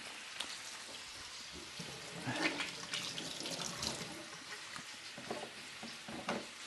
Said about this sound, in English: I'm gonna wash my hands again because I just touched the meatballs